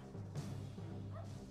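In the Army Men: RTS video game, a dog barks and whimpers in short yips, fairly faint and continuous over a steady low game hum.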